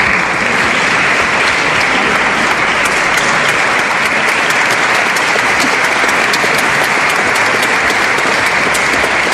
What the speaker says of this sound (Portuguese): Por favor, uma salva de palmas para vocês.